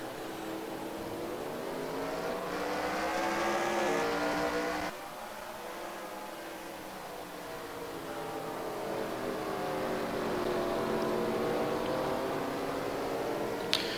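Stock race cars roar at full throttle around Martinsville short track under green flag, engine pitch rising and falling steadily as a pack laps continuously, loud and sustained with no talk.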